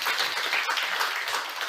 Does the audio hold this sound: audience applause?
yes